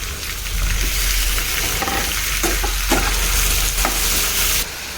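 Chicken with green chillies fries loudly in a pan for a crispy chicken fry, a dense, close, steady sizzle with a few spoon scrapes and taps, easing slightly at the end.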